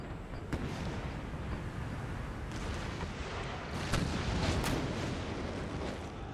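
Cannon fire in Empire: Total War sounds as a continuous rumbling barrage, with sharp booming reports cracking out at irregular intervals over a dense roar of distant battle.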